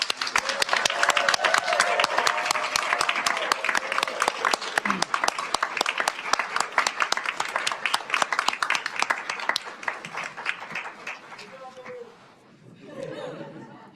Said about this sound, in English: Please give our graduates a loud round of applause.